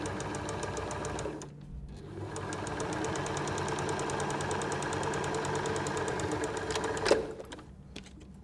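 Domestic sewing machine stitching fabric for an egg cosy: a steady, fast mechanical whirr with a rapid rhythmic needle tick, pausing briefly once, then running on before a short clunk near the end.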